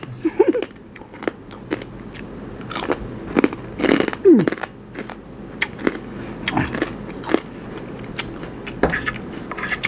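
Crisp bites and wet chewing of crunchy Korean-style pickled food, heard close up as a run of sharp crunches with short pauses between mouthfuls, no talking.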